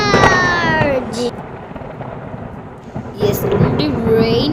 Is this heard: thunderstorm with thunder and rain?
yes